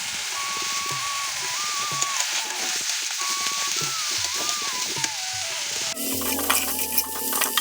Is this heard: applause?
no